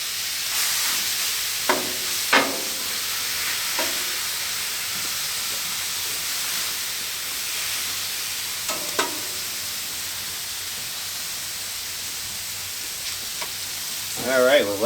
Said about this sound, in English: we'll let that steak cook a minute